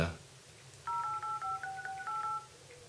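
HTC Desire C smartphone dialer keypad tones: a quick series of about eight short, clear DTMF beeps, evenly spaced in a steady run, heard close and alone in a quiet room.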